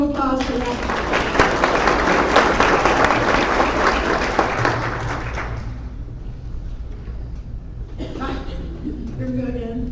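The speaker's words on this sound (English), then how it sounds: "Let's give you a round of applause for that." A room of nonprofit workshop attendees applauds an exercise with dense, steady clapping for about five seconds, then fades as a voice begins talking.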